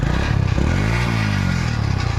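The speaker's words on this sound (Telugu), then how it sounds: "ఇంజన్ స్టార్ట్ చేసి పెట్టాను చూడండి." A TVS Star City Plus motorcycle engine runs at idle up close, a loud steady low throb with a brief rise and fall in revs midway.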